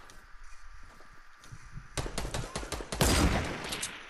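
Gunfire bursts out in a shooter video game after a quieter stretch, with rapid crackling shots that build up and grow louder and denser toward the end, without speech.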